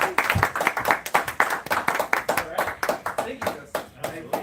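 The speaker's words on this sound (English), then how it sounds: "Please give a warm round of applause for Mr." Close, crisp clapping from an audience at a business event: sharp individual hand claps in a dense, uneven rhythm, loud and near throughout.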